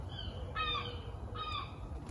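Seagull calls ring out in a garden, two short squawking bursts of similar length a moment apart over a steady low background rumble.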